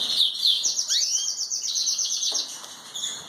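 Belgian canaries chirping and trilling in a breeding room, bright continuous high tweets with a rising whistled call, close and fairly loud, no talking.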